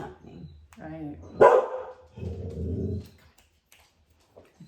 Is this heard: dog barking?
yes